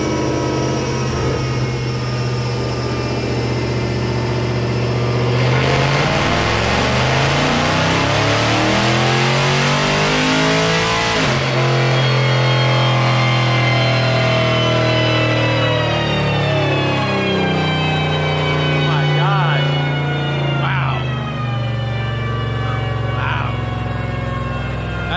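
A Dodge Hellcat engine revs hard on a dyno during an untuned baseline run with new headers, a loud, sustained roar that climbs in pitch, drops back, then surges again in a second long pull.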